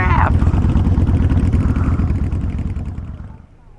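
Fan boats fitted with V8 engines rumble nearby a river ferry crossing, a loud, steady low engine drone with a throbbing pulse that eases off toward the end.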